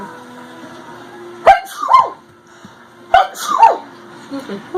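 A baby sneezes twice, each a sharp burst followed by a short squeaky vocal tail, about two seconds apart, close and loud over quiet background.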